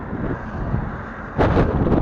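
Strong wind buffeting the microphone during a bike ride toward a forest, in a low, rumbling roar that swells louder near the end, with no talking.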